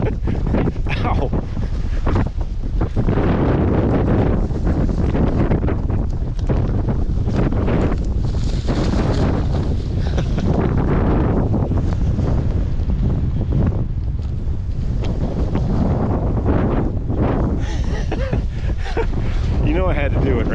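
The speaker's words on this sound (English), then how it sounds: "it's really windy out here." Strong wind buffets the microphone on a snowy ride on a green Schwinn bicycle, a loud, continuous roaring rumble with surging gusts throughout, no talk heard.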